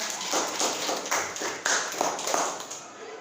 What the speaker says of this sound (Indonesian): Tepuk tangan dulu kelompok 3.